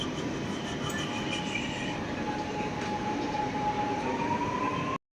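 A metro train arriving at a station platform, rolling along with a continuous rumble and a thin high wheel squeal rising steadily, no voices.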